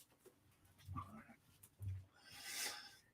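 Dogs chewing and whimpering indoors, with a few short, close whines and soft rustling, followed by a brief burst of hissy noise near the end.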